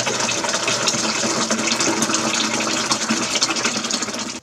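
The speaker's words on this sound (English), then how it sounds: "Now I need to get my liquid hot molasses in there" Hot liquid molasses pours steadily into a fermenter for coffee rum, a loud continuous gushing, splashing flow close by with no pauses.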